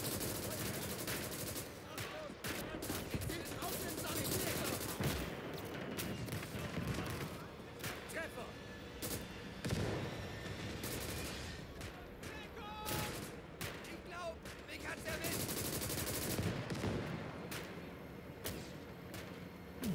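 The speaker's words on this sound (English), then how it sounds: "So the mortars should do most of the damage here." Repeated mortar and gunfire blasts in the WWII strategy game Call to Arms: Gates of Hell, a steady barrage of sharp cracks and booms over continuous battlefield noise, with a voice talking over it.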